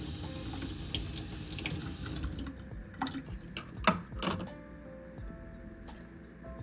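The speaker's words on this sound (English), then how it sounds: "I'm gonna get a little bit of water and just drip it on." Water from a tap runs in the background, then a few small drips land on a painted custom piece during a waterproofing test, heard as faint, scattered drops over quiet room noise.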